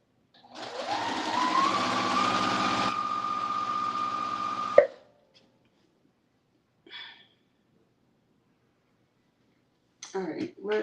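A sewing machine stitches steadily and close for about four seconds, then goes quiet. Brief voice sounds follow later.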